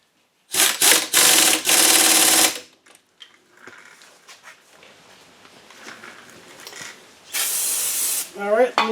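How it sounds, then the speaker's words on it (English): Brake cleaner sprayed onto the brakes of a 1997 Audi A4 being fitted with larger 2004 Audi A4 3.0 brakes: several loud, close aerosol bursts for about two seconds, quiet shop sounds, then another spray burst and a short voice. "Alright, a little bit of brake cleaner."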